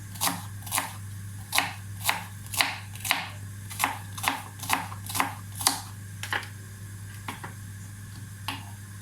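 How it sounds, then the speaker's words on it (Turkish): A knife chops an onion on a kitchen cutting board in a steady run of crisp, close knocks, about a dozen of them. A low hum runs underneath, and the chopping slows and thins toward the end, with no talking. "Bir adet soğanını doğruyorum."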